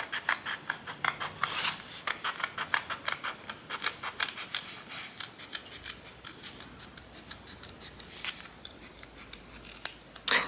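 Scissors snipping out paper ephemera for a junk journal, a long run of quick, crisp close-up cuts in an uneven rhythm, quiet and alone without talk.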